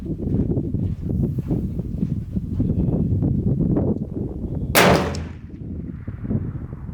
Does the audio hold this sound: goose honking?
no